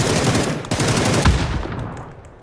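Automatic gunfire in the battle-royale game PUBG rattles in loud, rapid bursts up close, then trails off into fainter scattered shots.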